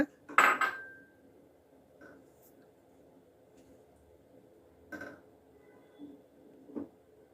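A spoon stirs custard powder into a fruit mixture in a bowl, giving a few sparse clinks and taps: one sharper knock near the start, then softer scattered touches over a quiet background.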